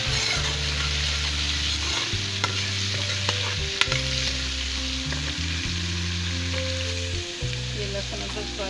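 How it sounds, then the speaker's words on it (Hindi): Garlic and ginger frying in a pan for dal mash, a steady close sizzle with stirring scrapes, while music plays underneath throughout. "ये लहसुन अदरक फ्राई हो गया है।"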